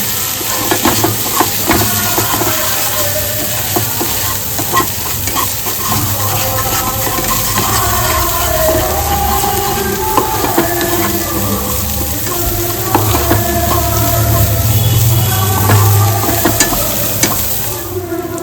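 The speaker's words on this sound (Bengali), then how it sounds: "মশলাটা কষানোর জন্য আমি একদম অল্প পরিমাণে একটু জল ব্যবহার করছি" Spice masala for Bengali aloo chop fries in a pan with a splash of water, a loud, steady sizzle close by with stirring scrapes running throughout.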